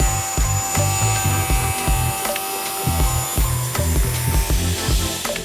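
Power tool cutting a 45-degree bevel on wooden king-size bed legs, loud close whining cuts broken by repeated bursts and short pauses.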